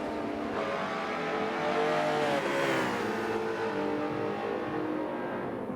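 McLaren and Porsche race cars in a Michelin Pilot Challenge round at Road America, heard as a loud, continuous engine roar. The pitch rises and falls as the cars accelerate and shift through the corners.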